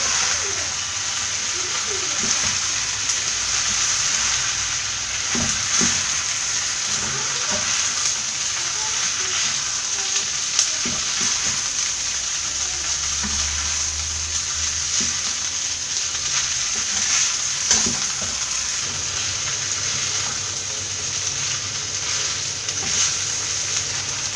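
Egg noodles being stir-fried with scrambled egg and pepper powder in a pan for Kerala-style hakka noodles, producing a continuous loud sizzle with repeated spatula scrapes and tosses throughout.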